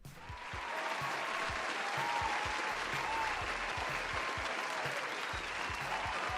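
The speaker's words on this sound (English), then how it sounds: "we will give you a round of applause" A live audience at a homebrew tabletop game review show gives a round of applause, dense steady clapping that swells in after a moment and holds strong to the end.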